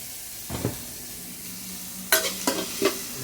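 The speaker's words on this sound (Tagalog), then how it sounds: "Gigisa po tayo." Ingredients for a mung bean dish sautéing in a pan: a low sizzle under a few quick metallic scrapes and clanks of a spoon against the pan, short and close, with no speech.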